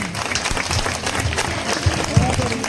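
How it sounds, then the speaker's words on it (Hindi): Audience clapping at a children's Independence Day celebration in a residential township in Bhiwadi, Rajasthan, a sustained patter of many hands with people talking over it. "जोरदार तालियां बजा दिए।"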